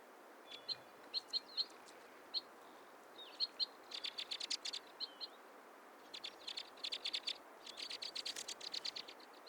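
Repeated short, high chirping calls of a white-winged crossbill, a conifer-seed specialist, come in scattered single notes and then quick rapid bursts, moderately close against a soft steady background hiss, with no voices.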